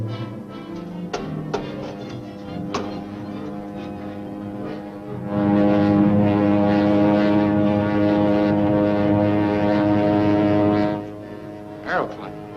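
A propeller aeroplane drones overhead across a town, a steady engine roar swelling in and holding for several seconds before fading, preceded by faint knocks and background hum.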